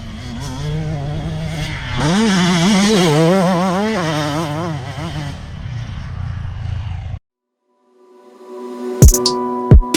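A motocross motorcycle riding and accelerating: a close engine drone whose pitch climbs and wavers through several throttle changes, cutting out abruptly, then brief sharp revving bursts after a short silence.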